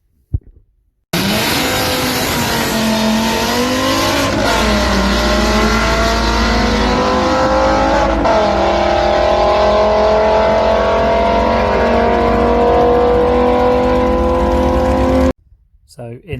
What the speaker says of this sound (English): qualifying run that we had up against Rob Cresswell in his Audi RS4, which you would have just seen